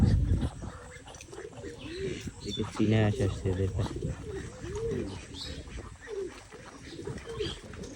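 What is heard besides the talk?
pigeons cooing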